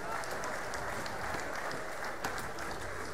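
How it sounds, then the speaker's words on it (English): Steady applause fills a crowd at a junior shearing semi-final of the Golden Shears competition, a continuous dense wash of clapping from a large audience with no breaks, heard at some distance. "all our junior semi-finalists a big round of applause"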